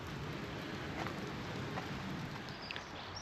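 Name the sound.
heavy rain at Hopton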